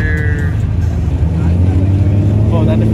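A Toyota Supra's engine revs hard at a car meet, a loud, steady, close droning roar with people shouting over it.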